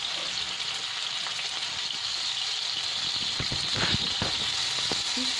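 Seekh kebab rolls fry in a little oil on a tawa, making a steady, close sizzle with faint crackles and a few louder pops near the end.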